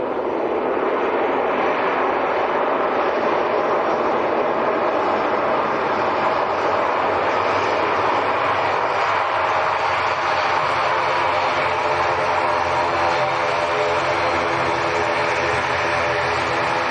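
An Aer Lingus airliner from Dublin at Leeds Bradford Airport gives a loud, continuous jet engine roar that holds steady throughout, nearby and alone.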